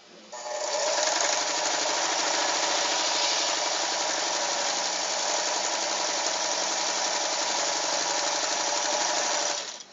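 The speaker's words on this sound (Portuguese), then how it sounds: "E vamos costurar o entrepernas." Sewing machine running steadily as it stitches the crotch seam of a handmade rag doll, a continuous loud whirring that starts about a second in and holds for the rest of the clip.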